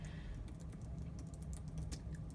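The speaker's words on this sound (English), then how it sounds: "So for text, I can type in here" Computer keyboard typing, quick light key taps in a steady patter over a low background hum, near and faint.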